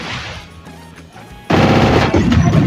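Rapid automatic gunfire from the battle-royale game Free Fire, a moderate burst that turns into a loud, dense stream of shots, close and continuous.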